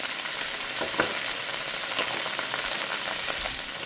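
Carrots and asparagus fry in olive oil for shrimp fried rice, giving a steady close sizzle throughout with a few faint stirring clicks and no talk.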